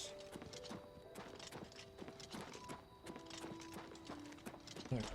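Horse hooves clip-clop in a steady walking rhythm inside a fantasy role-playing video game, close and moderately loud against game background sounds, with occasional other effects layered in.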